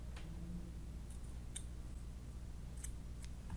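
Scissors snip a small piece off to size during repair of an Apple Desktop Bus mouse, a few sharp, quiet clicks over steady low background hum.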